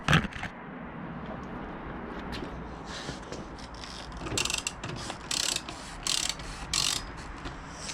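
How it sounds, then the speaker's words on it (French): Ratchet wrench with a 17 mm socket turning the bolt on a Booster scooter variator, giving a close run of quick mechanical clicks in short repeated bursts. "Vous prenez une clé de 17."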